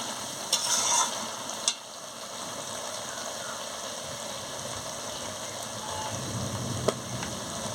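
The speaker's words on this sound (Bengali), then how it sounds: "ভালো করে একটু নাড়িয়ে নিচ্ছি।" Boiled ridge gourd, pumpkin, potatoes and other vegetables are stirred in a pan, a low, steady hiss with soft shuffling and a few sharp clicks of a utensil against the pan, with no talking.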